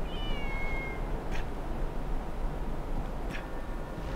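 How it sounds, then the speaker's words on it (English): A female character in the online game TERA meows twice like a cat over a steady bed of game ambience and music, each meow short and moderately loud. "Did she just meow at me?"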